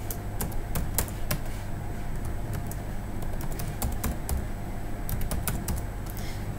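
Rapid, uneven keystrokes on a computer keyboard as an email address is entered into a web form, crisp clicks in bursts over a low steady room hum, with no talking.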